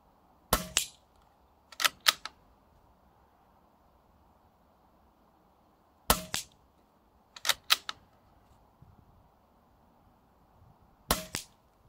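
A Weihrauch 110 air rifle fires pellets in four separate bursts, each made of sharp, close-up cracks and clicks, with a low, steady room hiss between shots and no talk.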